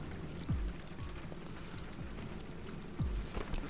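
Steady rain falls in a scene from the video game Detroit: Become Human, a constant even patter with no voices, broken by a couple of low thuds.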